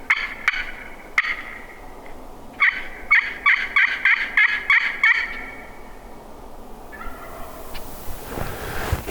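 A wild turkey gobbles on public land in South Dakota hill country, a rapid rattling call repeated a few times at moderate distance and ending in a longer gobble sequence, with faint outdoor noise and no talking.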